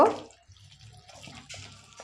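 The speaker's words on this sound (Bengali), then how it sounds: "আর একটু জল অ্যাড করে দিচ্ছি" Water is poured into wheat flour dough to loosen it, giving a brief close splash at the start followed by faint dripping and soft wet handling sounds.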